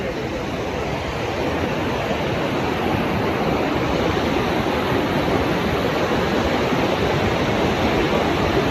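A steady, loud roar of rushing water falling at Athirappilly Waterfalls in Kerala fills the whole stretch, constant and unbroken.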